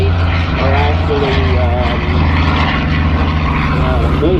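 Propeller-driven warbird airplanes at EAA AirVenture drone loudly and steadily throughout, a deep continuous engine roar with someone talking over it.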